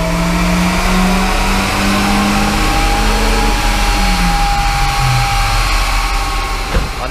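A turbocharged Ford Transit van engine holds at high revs under load during a dynamometer power run, a loud steady drone whose pitch shifts and drops near the end, with no voices.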